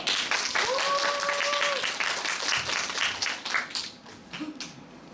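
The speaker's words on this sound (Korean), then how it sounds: "큰 박수 부탁합니다" A university alumni lecture audience claps in a sustained burst of applause that gradually thins out toward the end.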